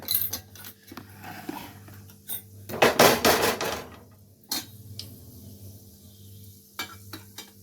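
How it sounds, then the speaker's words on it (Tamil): Whole cloves and cinnamon dropped into hot oil for chicken biryani, giving a brief burst of sizzling around the middle, with metal pan and utensil clatter and clinks before and after. "எண்ணெயும் சூடாயிடுச்சு. மசாலா ஐட்டம் சேர்த்துக்கலாம். கிராம்பு, பட்டை"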